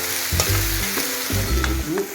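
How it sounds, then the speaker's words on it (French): Courgettes and carrots stirred in a pot for quick lentil soup: a utensil scrapes and clacks through the vegetables in several short strokes, close, over a steady sizzle. "Et on mélange."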